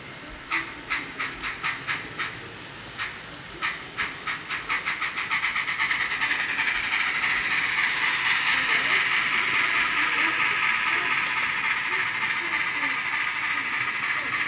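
An N-scale Bachmann model steam locomotive's sound decoder chuffs in rapid rhythmic puffs that quicken and blur into a continuous steady hiss, heard close and fairly loud.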